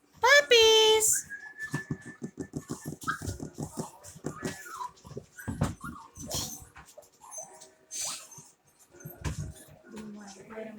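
Havanese puppies let out small high-pitched whimpers and yelps, loudest in a sharp burst at the start, then scattered thinner cries amid children's and adults' talk and household movement.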